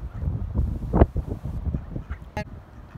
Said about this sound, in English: Alright, so there's ducks.